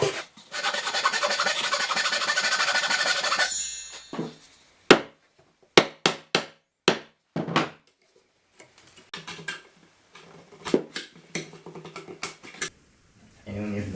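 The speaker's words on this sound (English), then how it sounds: "I have to cut this out with a saw and then chip it down with a chisel." A hand saw rasps steadily through a wooden wardrobe rail, then a chisel chips at it in sharp, separate knocks and taps with pauses between, close by and fairly loud.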